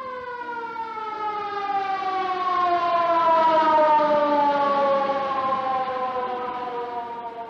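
A 1940s film-noir ambulance siren wails in a single long, steady tone that swells slightly louder in the middle and then fades a little, heard alone.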